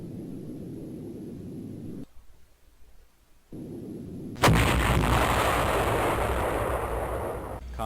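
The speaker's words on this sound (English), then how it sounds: "Explosion on the bearing of 323" Deep, rumbling blasts from Tomahawk missile explosions in the submarine game Fast Attack. A low roar drops into near silence and then swells into a loud, sustained explosive rumble.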